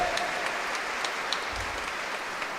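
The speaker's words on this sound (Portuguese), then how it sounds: "Pode aplaudir, eu sei que a casa caiu." A church congregation claps through a sermon break, the applause a broad, even crackle of many hands that holds steady and fairly loud from start to finish.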